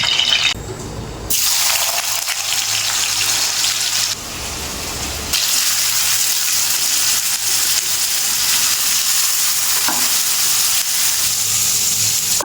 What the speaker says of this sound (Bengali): আমি এইদিকে ভাজা করব আলু